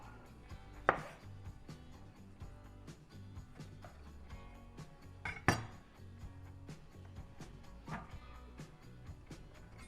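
A knife slices through tomatoes to cut out the core, with quiet, irregular taps on a board, two sharp louder knocks and faint kitchen clinks in a calm room.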